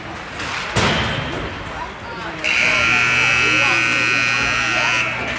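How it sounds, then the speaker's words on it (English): A hockey arena's warm-up buzzer at a Golden Knights vs Blackhawks game sounds as one loud, sustained electronic blare lasting a few seconds, after an earlier thump, with a commentator talking over the arena ambience. "There goes the warm-up buzzer."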